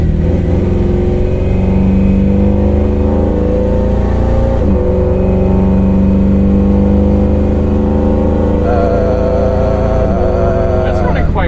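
A 2003 Ford F-350 Super Duty King Ranch with the 6.0 Powerstroke diesel runs steadily at idle, a loud continuous engine drone with a slight pitch change partway through, alone without talk.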